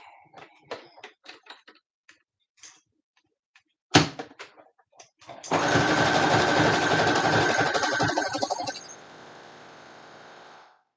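A sewing machine starts after a few light taps and a sharp clack, then runs in a steady, close, continuous whir of stitching for about three seconds before stopping, leaving faint quiet handling noises.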